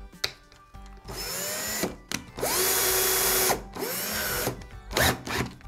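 Cordless drill/screwdriver fitted with a sanding attachment runs in several bursts of steady whirring, each one starting up and winding down, loud and close, with short pauses between runs and no talking.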